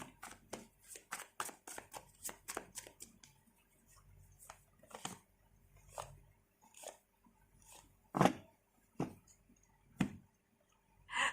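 Tarot cards shuffled by hand at close range, with a rapid flurry of crisp riffling clicks at the start, then slower irregular card slaps and flicks that end in a few louder snaps, and no one talking.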